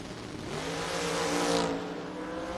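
Door-class drag cars, an Oldsmobile Roadster and a Thunderbird, launch and race at a Door Car Domination event. A distant engine roar swells and peaks, then fades slightly, heard faintly over a steady background.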